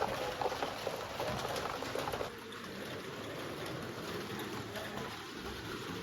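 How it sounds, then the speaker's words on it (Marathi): Heavy rain pours down in a village, a dense, steady wash of noise that stays constant throughout and softens slightly partway through. "पाऊस पडतो खूप"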